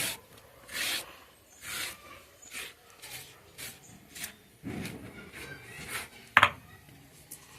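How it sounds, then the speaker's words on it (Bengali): Dried red chillies and spices being ground on a traditional grinding stone, heard as a series of rough, rhythmic rubbing and rasping strokes at close range, with an occasional sharp knock of stone on stone, and no talking. "এদিকে দেখো মশলা বেটে নিচ্ছি, শুকনো লঙ্কা"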